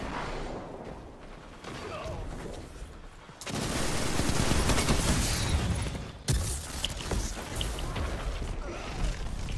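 Sniper and weapon fire in Destiny 2 multiplayer on Exodus Blue, a dense burst of loud gunfire and booms after a quieter stretch, with game sound throughout.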